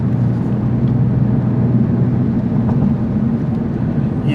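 A Honda Civic Type R FL5 with ADS dampers is heard from inside while driving, giving a steady, loud low engine drone and road rumble with no talking.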